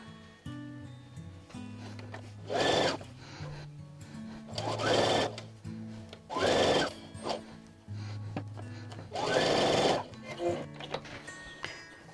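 A sewing machine runs a quarter-inch seam along a quilt block in four loud bursts of rapid needle chatter, separated by quieter pauses as the fabric is adjusted.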